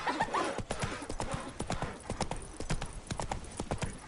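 Horse hooves clip-clop in an even walking rhythm on a road in The Witcher 3, a steady series of sharp knocks over several seconds, moderately close with faint background ambience.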